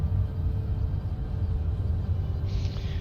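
Low, steady storm rumble in the Escape from Mars video game, a continuous deep roar filling the background throughout with a faint higher whoosh rising near the end.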